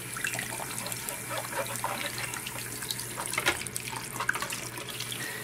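A water tap running steadily while an Xbox 360 disc is washed, a continuous hiss of flowing water with faint splashing, close and unbroken.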